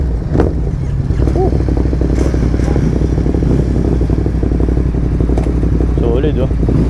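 A Ducati Monster 937 motorcycle runs steadily throughout with a constant engine drone, loud and close, with some clatter and occasional voices underneath.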